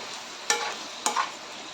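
Chicken sizzles steadily as it fries in a hot pan, broken by two quick scraping clacks of a utensil stirring it.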